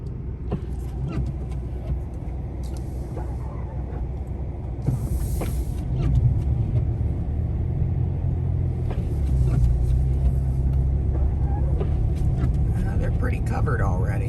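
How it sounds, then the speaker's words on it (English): A 2021 Mitsubishi Mirage drives through snow on Vredestein Quatrac tires with a steady low cabin rumble of engine and road noise that swells partway through, plus scattered small clicks and knocks. "we're gonna see how the Mirage does here in the snow with these new Vredestein tires"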